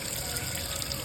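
Rice being rinsed under a cold running tap, with a steady, even rush of water pouring close by and no talking.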